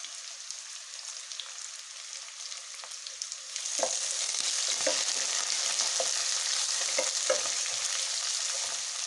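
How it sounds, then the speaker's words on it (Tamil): Sliced onions hit hot oil in a pan for vegetable rice, and a soft background sizzle jumps to a loud, steady frying hiss with occasional stirring taps, close up. "இந்த வெங்காயத்தையும் ஆட் பண்ணிக்கலாம். கொஞ்சம் நல்லா வணங்கிட்டு உப்பு போட்டுடலாம், வணங்குறதுக்காக."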